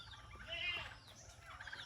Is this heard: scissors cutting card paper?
no